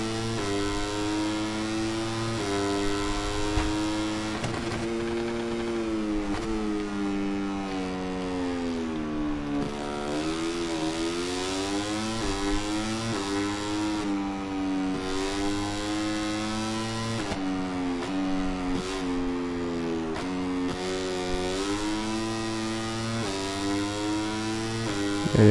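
A racing motorcycle engine revs continuously, its buzzing whine sweeping up and down in pitch through repeated gear changes, loud and sustained with no pauses.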